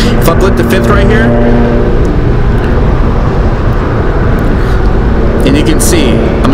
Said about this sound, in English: What you're going to want to do is you're going to want to blip the throttle.